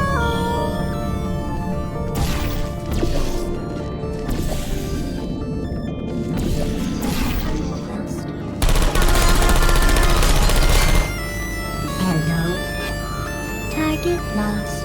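Turrets in the Portal 2 video game firing bullets, with bursts of rapid automatic gunfire and a loud sustained volley midway, layered over dense game sounds and music-like tones.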